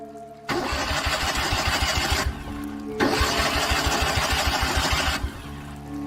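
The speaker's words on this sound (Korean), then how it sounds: "장비를 정리하고 차에다 시동을 거는데" A car engine is cranked in two separate start attempts, each a loud, rhythmic chugging that runs for about two seconds, with a short quiet gap between them and no speech.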